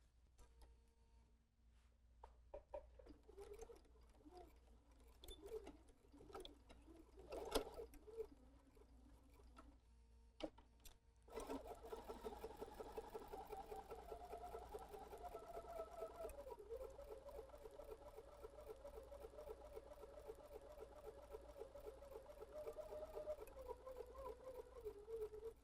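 A sewing machine stitches a quarter-inch seam around the curved arc of a fabric face mask, running steadily for the second half after quieter handling noises and small clicks.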